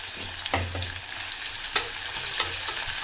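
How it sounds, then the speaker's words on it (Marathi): Finely chopped onion fries in a pan with garlic until reddish, for a quick dal khichdi: a few close scrapes of a spatula break up a steady bright sizzle, and nobody speaks. "कांदा आपल्याला पूर्णपणे असा लालसर करून घ्यायचा आहे"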